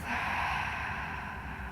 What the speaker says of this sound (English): One more time, deep breath in.